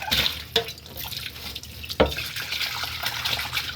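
Water runs and drips into a kitchen sink during cleaning, a steady close splashing stream with a few sharper drops and clatters, no voices.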